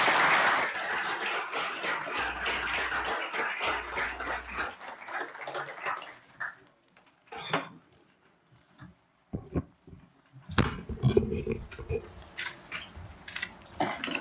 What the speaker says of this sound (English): Give one more round of applause for our high five